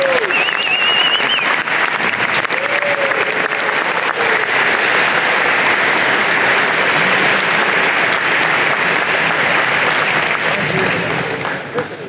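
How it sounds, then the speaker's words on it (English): Graduation convocation audience for an engineering and computer science college stands and applauds its PhD graduates, loud sustained clapping from a large crowd that holds steady for about eleven seconds before tapering off at the end. "could you please stand and give them a big round of applause?"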